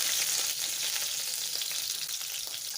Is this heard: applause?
no